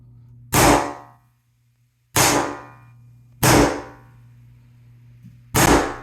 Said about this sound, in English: let's test how durable this LVP is with a hammer.